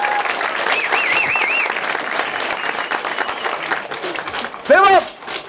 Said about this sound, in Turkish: Hadi alkış,